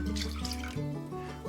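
Water poured into a pan with milk and canola oil for cheese bread dough, a steady close splashing pour lasting over a second, with no talking.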